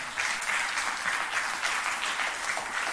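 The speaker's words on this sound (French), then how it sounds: "Je crois qu'on peut vous applaudir très très fort." Steady applause from a conference audience, dense and even throughout, closing a talk on post-conflict journalism.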